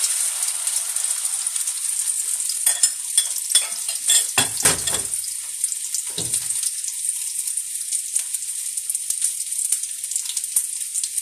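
Spinach patties made with onion and egg fry in a pan, a bright steady sizzle broken by several scraping and stirring knocks in the middle, close and fairly loud, with no voices.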